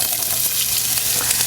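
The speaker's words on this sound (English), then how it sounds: "You know the oil's hot because we've got the sizzle, along with a pinch of salt." Potatoes sizzle in hot olive oil in a pot over medium-high heat, a steady, close, crackling fry that holds evenly throughout with no one speaking.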